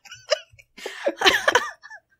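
A person hiccups several times in short, sharp bursts. The hiccups are mixed with giggling and breathy vocal sounds, close to the mic.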